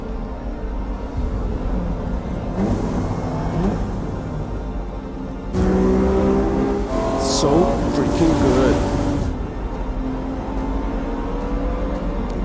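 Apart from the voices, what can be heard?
car engines in film trailer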